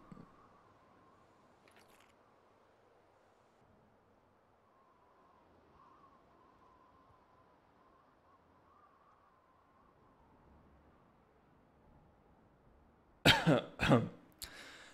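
A couple of sharp coughs burst out near the end after a long stretch of quiet low hum.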